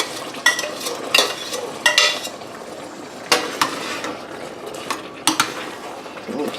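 Spaghetti sauce with meat being stirred in a pan, a utensil scraping and clinking against the metal in irregular strokes over a soft sizzle, close and moderately loud, with no talking.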